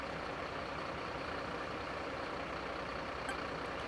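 A fire engine from the firefighting simulation game Emergency Call 112 idles with a steady, loud engine rumble that holds evenly throughout, with no voices.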